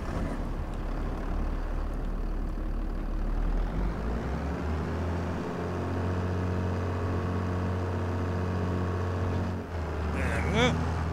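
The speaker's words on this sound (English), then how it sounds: "Tractor." Tractor engine in a farming video game, a steady low rumbling idle that shifts pitch partway through and runs continuously, with a person talking over it.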